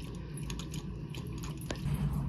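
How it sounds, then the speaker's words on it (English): Dogs snack and drink after a trip to the park on a hot day, giving soft, close chewing, crunching and wet lapping sounds that continue steadily under low room noise. "Sorry for the dogs. They are engaging in their after park snack and drink."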